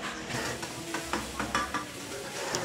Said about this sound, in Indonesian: Dan ini aku goreng atau suami itu goreng tongkol yang sisa